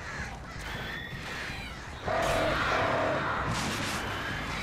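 Crows caw repeatedly in the Alan Wake video game, harsh calls rising over a steady, noisy ambient background.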